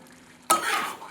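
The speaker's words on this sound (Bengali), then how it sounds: "এখানে বাটার দিয়ে পেঁয়াজ, ক্যাপসিকাম, আদা ভাজছি" Onion, capsicum and ginger hit hot butter in a pan with a sudden loud sizzle that starts after a brief quiet moment and keeps hissing steadily to the end.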